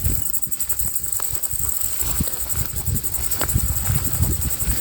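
Grasshoppers in a field of heritage wheat at harvest time, a steady insect chirring and rustle with a high whine running throughout, moderately loud and with no one talking.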